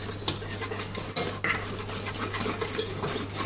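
A utensil stirs chocolate buttercream in a bowl, giving a steady scraping and clinking texture with a constant low hum from a nearby appliance.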